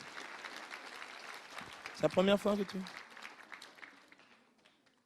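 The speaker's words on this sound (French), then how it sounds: "je voudrais qu'on les applaudisse quand même là" Audience applause that fades gradually, with a person speaking briefly over the middle of it before the clapping tapers away into near quiet.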